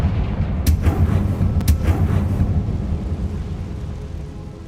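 A Confringo fire-blast spell cast in the Hogwarts Legacy video game lets out a couple of sharp, crackling booms that settle into a heavy, rolling low rumble which slowly fades.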